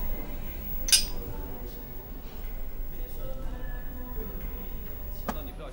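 Glasses clinking once in a toast at a meal, a single bright chime early on, followed by quiet room tone and faint table clatter, with people speaking softly.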